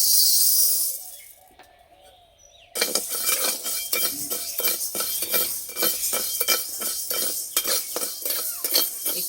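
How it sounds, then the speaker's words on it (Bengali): Black gram lentils are dry-roasted in a dry wok and stirred, producing rapid, rhythmic scraping and rattling strokes that start after a brief quiet stretch and keep going, close and fairly loud, with no talking. "এই শুকনো কড়াই একটু ভেজে নেব"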